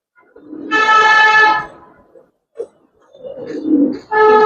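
Giribaz and coloured pigeons cooing at close range: two loud, sustained harmonic calls bracketing a quieter stretch with brief soft sounds between them, no talking.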